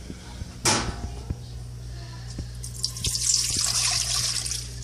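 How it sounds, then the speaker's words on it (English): Water pours into a pot with a faint, steady splashing trickle, broken by a few small clicks and knocks, quiet throughout. "there goes 2 cups into this pot"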